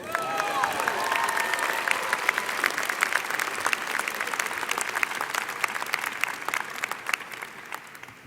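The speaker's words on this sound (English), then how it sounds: "And now you can applaud." An audience at a spring business-school graduate commencement bursts into sustained applause, a dense wash of clapping from a large crowd that holds steady before tapering off slightly at the end.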